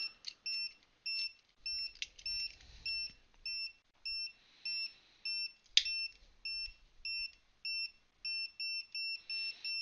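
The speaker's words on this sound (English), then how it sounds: "look at it how it detects gas from this lighter" An AIcevoos gas detector alarm reacting to gas from a lighter, emitting a steady series of rapid electronic beeps in regular pulses, close and clear, with faint handling noise underneath.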